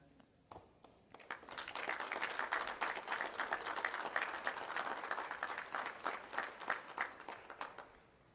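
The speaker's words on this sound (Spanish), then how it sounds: "Un gran aplauso." An audience breaks into sustained applause at a police graduation ceremony for 427 new officers, a broad crowd of clapping that swells after a few scattered claps and holds steady before easing off.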